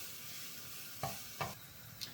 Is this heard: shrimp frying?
yes